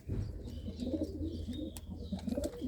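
Old desi pigeons coo softly and continuously in a loft, several overlapping low burbling calls close by with faint chirps and rustling behind.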